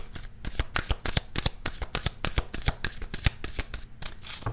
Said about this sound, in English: Let me grab one more. One more card, please, for Capricorn.